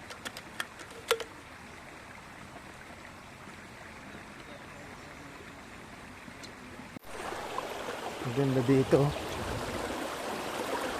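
Water of a stream at a mountain campsite flows steadily in the background, a faint continuous wash that swells louder in the second half, with someone speaking briefly over it.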